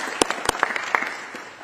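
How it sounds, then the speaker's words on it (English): Scattered claps from a small audience at a teachers' union event on federal public school funding in Philadelphia, applauding school board members; a few sharp hits up front that thin out and fade within two seconds. "Please give them a round of applause."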